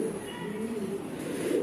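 Jabra Pankhi pigeons, a newly adult pair, coo in soft, low, rolling phrases close by, with steady faint background noise and no talking.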